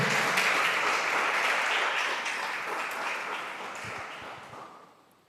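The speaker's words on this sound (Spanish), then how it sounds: "Denle un aplauso a Dios, al Espíritu Santo, por esto" Church congregation applauding together, a dense even roar of claps that holds strong and then slowly thins and fades out by the end.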